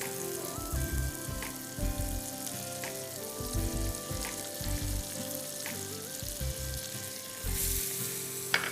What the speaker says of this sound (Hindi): इसी में हम जल्दी से प्याज शामिल कर देते हैं